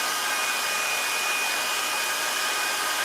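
A hair dryer blows steadily and loudly for about three seconds, a continuous breathy whoosh with a thin whine, while drying a balloon sculpture; no one speaks.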